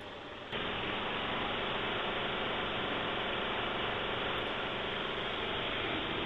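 An IMAX film projector and its sound dubber start up backstage in the booth, and an abrupt steady mechanical whir and hum then runs continuously at an even level.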